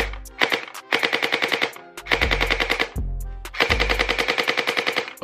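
Vector gel blaster firing in rapid bursts, four loud, close strings of fast mechanical shots with short pauses between them and a buzzing motor undertone, with no talking.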